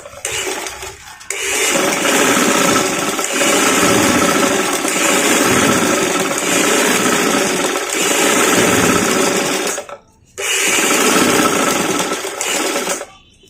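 A sewing machine runs steadily while stitching a frock, a long continuous motor whir that breaks off briefly near the end before resuming.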